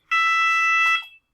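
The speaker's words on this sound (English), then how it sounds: "That's the alarm, by the way." A single loud electronic alarm tone sounds once, steady and piercing for about a second before cutting off, with no talk over it.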